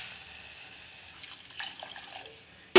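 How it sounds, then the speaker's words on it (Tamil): Tamarind water followed by plain water poured into a pan while making milaga pachadi, a soft liquid trickle building midway, then a sharp clatter at the very end. "இப்போ நம்ம ஒரு 1/2 கப்பு புளி தண்ணி ஊற்றிக்கலாம்."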